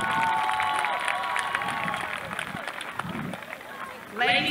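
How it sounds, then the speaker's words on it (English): A high school graduation crowd in 2023 applauds and cheers, a steady wash of clapping and chatter at moderate distance, with a brief louder burst near the end. "Please give them a big round of applause."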